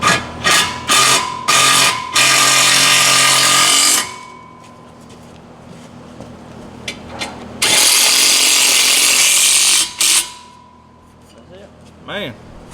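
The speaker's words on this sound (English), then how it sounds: "Now we can tighten these bolts up." A power tool drives 13 millimetre bolts tight on a GSE exhaust being fitted to a CFMOTO: loud, close bursts of whirring and buzzing, several short pulses then long sustained runs, separated by quieter pauses with faint voices.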